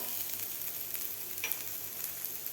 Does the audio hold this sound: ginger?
yes